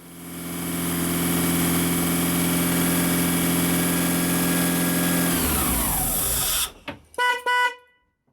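A rebuilt Lancia Integrale engine runs steadily and loud close by, its tone winding down after about five seconds, followed by a few short blips and an abrupt cutoff.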